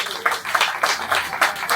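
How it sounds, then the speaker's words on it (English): An audience claps in a short, lively burst of applause, many hands clapping close together in uneven rhythm for under two seconds. "Abeg, clap for yourself."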